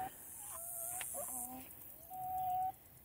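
A rooster named Abner crows in a backyard chicken coop, several tonal calls rising and holding close by, with clucking hens and a bit of voice in the background.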